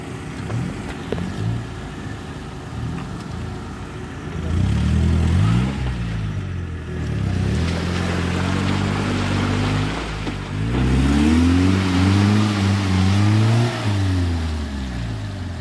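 A motorcycle engine revs repeatedly off-road, rising and falling in pitch through several throttle blips, loud and close, with steady rumble between the surges and no talking.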